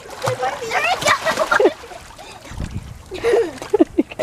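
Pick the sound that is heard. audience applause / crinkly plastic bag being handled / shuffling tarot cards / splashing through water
splashing through water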